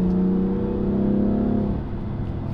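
BMW M4 engine pulling hard under acceleration, a strong steady drone with a rising tone that eases off after about two seconds, heard up close and alone.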